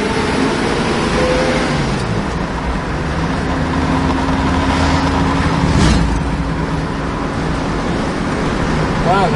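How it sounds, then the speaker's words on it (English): The engine of a 1965 Ford Mustang runs smoothly and fairly quietly while driving, a steady low drone with road and wind noise around it, and people speak over it. "wow, nice smooth running car."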